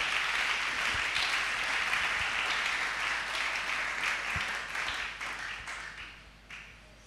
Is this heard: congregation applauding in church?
yes